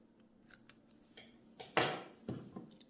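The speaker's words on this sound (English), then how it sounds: "you cut the yarn" Scissors snip through crochet yarn, a couple of crisp close cuts standing out from faint rustling handling noises, with no talk.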